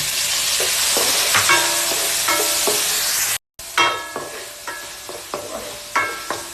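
Garlic, onion and tomato sautéing in a pan for squid adobo, with a steady loud sizzle and repeated metallic scrapes and clinks of a spatula stirring at an uneven rhythm.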